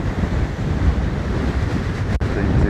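Heavy storm surf pounds the shore at Anapa's Paraliya beach, a dense, continuous roar of breaking waves mixed with gusting wind buffeting the microphone, close and loud throughout.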